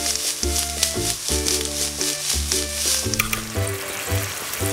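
Onions, garlic and chili fry in cooking oil in a tiny miniature pan, a steady sizzle and hiss running under loud melodic background music for the whole stretch.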